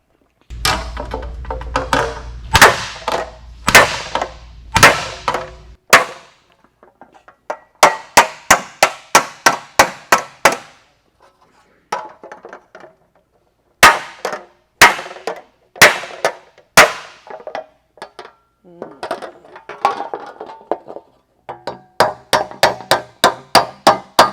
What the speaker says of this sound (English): keep shrinking around here with the stump, making a big pucker in there, and then hammering it out.